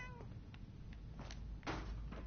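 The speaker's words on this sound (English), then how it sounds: "There's a cat." A cat in the video game Fallout 4 gives a couple of short, faint meows over a steady low background hum, followed by a soft thunk.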